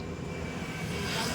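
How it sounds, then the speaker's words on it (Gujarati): A distant aircraft drones steadily, a low, faint engine rumble rising slightly toward the end. "વિમાન આવ્યું"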